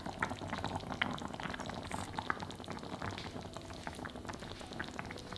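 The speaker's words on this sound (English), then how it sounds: "Cover the lid and braise over medium heat until completely cooked through" Stuffed tofu braising under a lid in a sizzling clay pot over medium heat, giving a steady, close, dense hiss and bubbling crackle that holds evenly throughout, with no voices.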